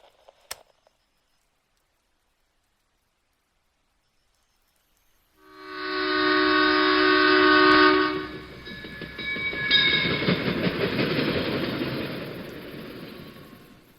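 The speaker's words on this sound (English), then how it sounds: "The rhythmic clatter of the train's wheels was a lullaby" Silence for several seconds, then a loud train roars in with a sustained horn-like blare, followed by a rumbling, rattling clatter of carriages on the track.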